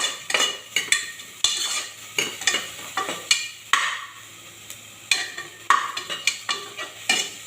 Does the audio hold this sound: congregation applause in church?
no